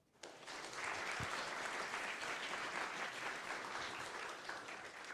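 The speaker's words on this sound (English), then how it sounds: "Big round of applause for them." A room full of people at a game jam presentation breaks into sustained applause, steady and fairly loud, beginning abruptly and continuing to the end.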